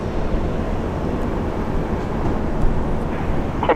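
A Jetstar airliner rumbles at Brisbane Airport, a steady broad engine roar held at moderate distance, swelling slightly near the end with no voices over it.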